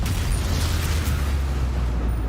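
A spell effect in Hogwarts Legacy bursts out as a heavy rumbling boom with a dense noisy wash, loud and sustained over a couple of seconds, with no voices.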